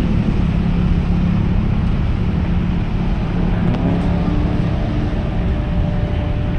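A tour boat motor on a river in Surabaya gives a steady low rumble that drones on without a break, loud and constant throughout.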